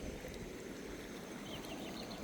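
A rain-swollen river after heavy rain runs over the top of a bridge, giving a steady, dense rushing wash of water with no talk.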